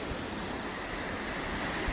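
Ocean waves wash steadily onto a beach after a nor'easter storm, a continuous broad roar of surf with some wind noise and no voices.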